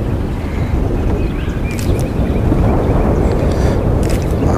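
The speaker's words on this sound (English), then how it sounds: "Ooh, that wind." Strong wind buffets the microphone outdoors on a boat during a fishing trip, a loud continuous rumble and roar with faint water sounds.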